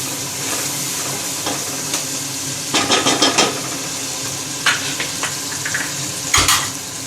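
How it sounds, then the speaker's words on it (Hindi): Spices sizzle steadily in a hot pan while a spoon scrapes and stirs in short bursts, with a faint hum behind. "थोड़ी देर के लिए हम मसाले को भून लेंगे।"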